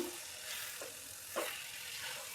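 Carrot halwa being stirred in a hot pan, with a steady frying sizzle and a couple of brief scraping strokes of the spoon, fairly quiet and close.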